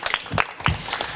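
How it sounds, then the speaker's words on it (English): Scattered applause and a few claps from a small pub audience welcoming a guest named Oscar at a talk-show gathering, close and lively but brief, lasting about a second. "let's give Oscar a big round of applause"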